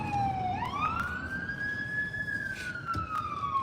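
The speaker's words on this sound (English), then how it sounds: "The ambulance coming out here and the red siren, the light not even on." An ambulance siren wails close by and keeps sounding, its pitch sweeping slowly up and then gliding back down over a steady rumble of road noise.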